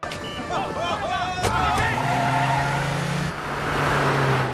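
An action-film getaway in a police car: a loud engine roars and tires squeal in a fast escape, with a steady motor drone carrying on while a voice talks over it.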